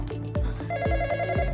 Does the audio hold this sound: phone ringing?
yes